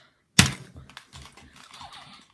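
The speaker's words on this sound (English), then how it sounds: "He's typing." Keyboard typing, opening with a sharp loud knock and then a quick run of light, irregular key clicks, close and fairly faint, with no voices.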